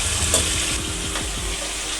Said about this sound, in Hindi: अब मैं इसमें ये जो ग्रीन शिमला मिर्च कटी की थी वो ऐड करती हूँ।